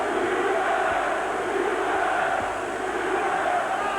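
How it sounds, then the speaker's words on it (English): Boxing arena crowd at a Carl Thompson versus Chris Eubank fight roaring and chanting a fighter's name in a steady, dense wall of massed voices that fills the whole stretch without pause. "the crowd appreciating this work from Eubank, shouting out his name."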